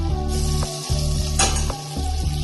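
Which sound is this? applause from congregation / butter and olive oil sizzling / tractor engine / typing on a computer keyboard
butter and olive oil sizzling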